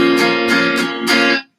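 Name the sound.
guitar bar chord strummed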